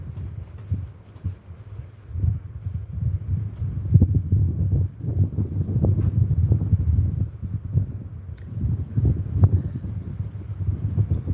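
Outdoor wind buffets the microphone with a loud, continuous low rumble that swells and gusts unevenly, with occasional faint rustling on top.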